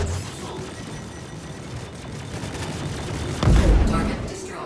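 Ship weapons fire in a Star Citizen space dogfight, a rapid stream of shots and bursts under a dense game soundscape, with a heavier booming impact near the end.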